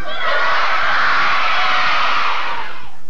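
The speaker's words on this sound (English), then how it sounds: "I want to take this side of the room, and as loud as you can, I want you to yell good morning." A side of a room full of students at a school student-government inauguration shouts good morning at full volume, a dense, loud crowd yell held for about three seconds and then fading.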